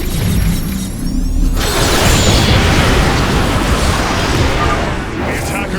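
Cannon fire in the StarCraft II: Legacy of the Void game, loud heavy booming blasts rolling into continuous rumbling, with a brief rising tone at the start.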